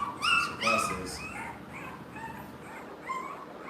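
Young puppies whimpering and yipping close by, several high wavering cries bunched in the first second, then softer whines trailing off with a brief yip near the end.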